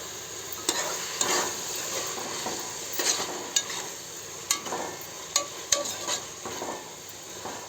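Banana flower cooking in a pan for banana flower biryani, a steady sizzle broken by repeated scraping stir strokes and light clinks of a utensil against the pan, close and alone with no talk.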